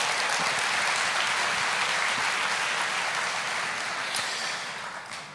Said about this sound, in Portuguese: dá uma salva de palmas para você mesmo